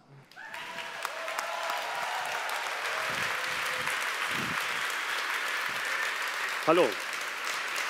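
A conference audience applauding photographer Ulrich Tausend as he comes on stage, sustained broad clapping from a large crowd after a brief spoken greeting, with a short burst of voices near the end.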